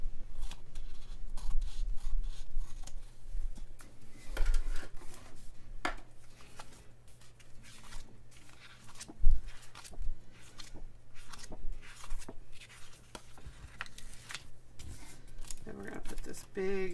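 Scissors snip close up through a big Mickey sticker on a planner page, with many quick irregular cuts and rustles of paper over faint background music.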